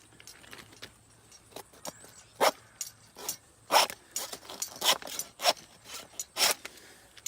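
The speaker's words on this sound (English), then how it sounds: "now we're going to take the saw and come straight down and divide the two hindquarters in half" A saw rasps through deer hindquarters in quiet, irregular strokes, each a short scraping burst separated by brief pauses.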